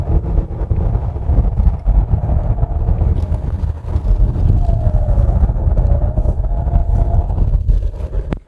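2023 Hyundai Palisade 3.8 front-wheel-drive SUV driving a winding mountain road, a steady, loud cabin rumble of engine and road noise with wind buffeting, without talk.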